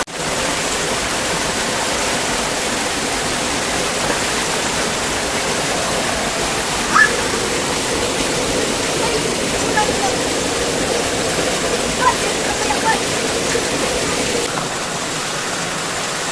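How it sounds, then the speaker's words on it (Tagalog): Rushing water of Tinago Falls, a steady, loud broadband roar of falling water that runs continuously, with faint voices barely audible beneath it. "Welcome to Tinago Falls!"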